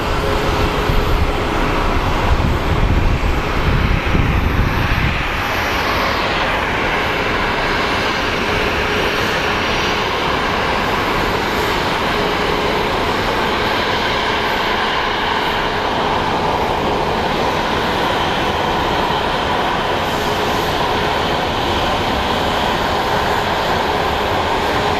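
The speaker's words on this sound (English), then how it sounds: "we have a JSX Embraer getting ready to depart. It is a Embraer 135 ER." A JSX Embraer 135 ER regional jet departs from an airport, its engines a loud, sustained roar with a heavier rumbling burst at the start before settling into a steady broadband jet noise that holds for the rest of the clip.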